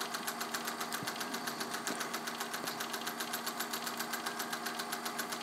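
A restored Singer 201K rotary sewing machine runs steadily, giving a close, even mechanical hum with a fast regular ticking rhythm throughout, with no voices.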